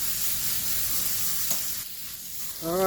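A garden hose sprays water over a backyard compost pile of horse manure, cucumber and squash vines, making a steady close hiss that dips briefly before surging again at the end.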